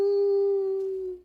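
A human voice imitates a wolf-like howl: one sustained, steady tone held for about a second before tapering off and fading, loud and close with no other sound around it.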